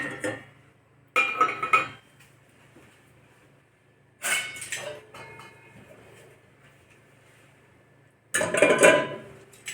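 Metal vessels, including a pressure cooker, clink and clatter in a dishwasher rack in three separate bursts, close and fairly loud, with a steady low hum between them.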